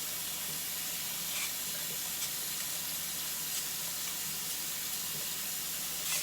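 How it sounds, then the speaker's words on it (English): Water runs steadily through a trumpet's main tuning slide as a brush is pushed through, a constant faint hissing rush with small scrapes, no talk. "Now the main tuning slide, you put water into and put the brush through."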